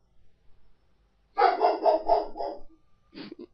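Dog barking in the game Minecraft, a quick run of about five close, loud barks followed by a short yip a moment later, with no talk over it.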